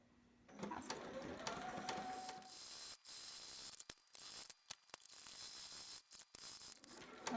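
A sewing machine runs zigzag stitching around the crotch of a sitter romper, a fast mechanical whirring and clatter close by, broken into short bursts with brief stops for back stitching.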